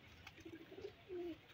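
Pigeons newly bought for a rooftop loft coo softly in a few low, throaty phrases, quiet and close, with the longest coo near the end.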